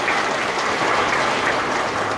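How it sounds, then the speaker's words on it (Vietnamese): A church congregation bursts into loud, sustained applause during a feast-day mass, a dense even roar of many hands filling the space for the whole stretch. "cộng đoàn chúng ta chung tay bố một tràng vỗ tay thật lớn để xin đưa chúc mừng"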